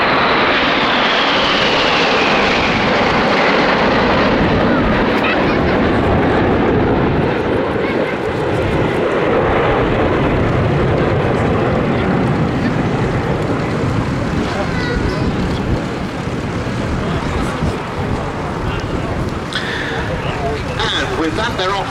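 Red Arrows display jets in a flypast at the Duxford Summer Air Show, eight aircraft together, making a loud sustained jet roar that fills the whole stretch, with a commentator talking over it.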